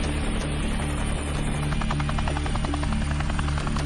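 A Navy Seahawk helicopter hovers over open sea near pirates, its loud rotor throbbing steadily with a fast blade chop and engine whine throughout.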